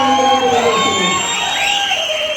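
A large crowd at a Telugu Desam Party mini Mahanadu political meeting in Yemmiganur cheers and claps loudly and continuously, with shrill whistles and raised voices across the whole stretch.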